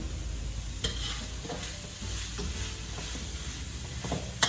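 Holy basil (kaprao) stir-fried in a home kitchen pan, giving a steady close sizzle with occasional clatter and scrapes of stirring, a few sharper knocks standing out, no talking.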